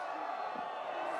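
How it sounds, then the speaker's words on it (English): A crowd cheers at Kings and Queens of Corbet's, a freeskiing competition at Jackson Hole Mountain Resort, as a rider comes into the bottom. The roar is steady and broad, with whoops blended in, over a short moment. "I just love hearing the stoke from the crowd."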